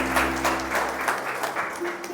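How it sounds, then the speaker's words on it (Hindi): Audience applause for a young girl at a health talk, steady clapping across the whole stretch with a low hum underneath. "जोरदार तालियां बेटी के लिए होना चाहिए।"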